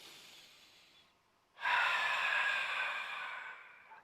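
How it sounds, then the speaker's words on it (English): A person taking a deep breath, a quiet exhale fading out, then a brief pause before a louder, longer airy breath close to the microphone that slowly tapers off. "Can you take another deep breath with me?"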